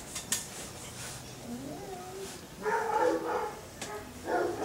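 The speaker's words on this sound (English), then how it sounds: "There's a dog that barks at the door." A dog barks at the house door, with several short yelping barks in the later part, loud and fairly close, after some quieter clatter and a brief whine-like tone.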